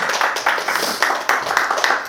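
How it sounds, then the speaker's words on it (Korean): A church congregation claps together to congratulate a newly appointed deacon, a close, lively patter of many hands with rhythmic bursts of stronger clapping. "우리 큰 박수로 격려와 축하를 해주시죠"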